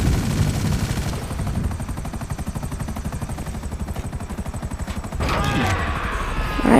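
An aircraft falls and explodes in GTA V, with rapid rhythmic mechanical chopping that runs throughout and a sharp, loud burst of blast noise near the end.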